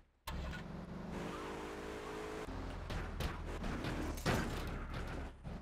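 A car in Grand Theft Auto III starts up and drives, its engine revving and shifting loudly and continuously, with a few sharp knocks and bumps mixed in.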